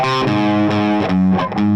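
A distorted electric guitar plays a short melodic chorus riff of single sustained notes with slides, loud and thick with overdrive.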